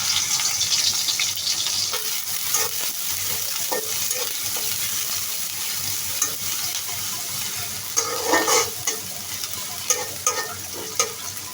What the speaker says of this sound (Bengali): এখন আমি পেঁয়াজ কুচিগুলি দিয়ে দিচ্ছি